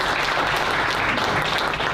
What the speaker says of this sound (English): Round of applause for Chief